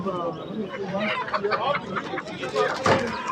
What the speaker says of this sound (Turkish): Vallahi firar ediyor tavuklar bak